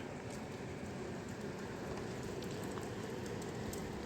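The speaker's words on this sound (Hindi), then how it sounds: "बारिश हो रही है अभी भी" Steady rain falling in a village on a cold, foggy day, a soft even hiss of drops on surfaces, constant and fairly quiet with no voices.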